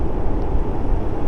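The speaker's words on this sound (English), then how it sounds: "You hear that? That's the roar of the tornado." A tornado roars close by in Effingham, Illinois, a dense, continuous low rumbling wind noise filling the whole moment without a break.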